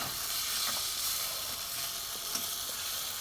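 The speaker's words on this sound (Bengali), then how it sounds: "বারে বারে নেড়ে নেড়ে শুকনো হয়ে গেছে।" Loitta fish sizzling as it is stirred and dried in a frying pan, a steady continuous hiss with faint scraping now and then, close and even throughout, with no voices.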